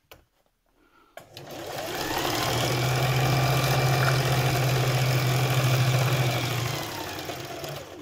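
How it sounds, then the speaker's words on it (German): A sewing machine stitches a V shape into a fabric My Little Pony G5 hoof. After a brief clunk, it starts up and runs with a steady, close whirring hum for about five seconds before winding down. "Da muss man es wie so ein V nähen."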